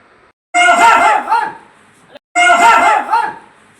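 A dog barking loudly and close, two bursts of harsh, strained barking separated by a short silence.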